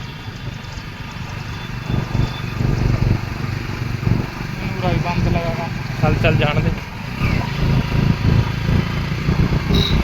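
A motorcycle engine labors in first gear on an uphill road on the way to Baba Balak Nath, a steady close rumble running the whole time while people talk over it.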